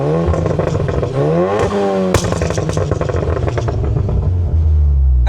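A 490 hp Audi S1 revs hard close to the microphone, the engine note climbing and falling, with a sharp exhaust crack midway and scattered popping and crackling as the revs drop, ending on a low, loud rumble.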